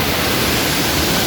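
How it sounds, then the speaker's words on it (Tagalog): Devil's Falls waterfall at Tukal Tukal Falls on Devil's Mountain in Botolan, Zambales, roaring as a loud, steady broadband wash of falling water with no pauses. "bumaba na kami dito sa may Devil's Falls"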